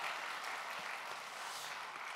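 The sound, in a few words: church congregation applauding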